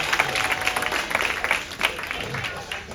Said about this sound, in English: Let's clap it up for the birthday girl one time.